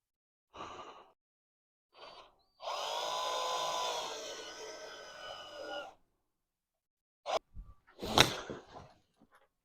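A power drill drives screws into a mount for a trap built to catch stone martens in an attic, one sustained whirring burst followed later by short, sharper spurts, close against a quiet background.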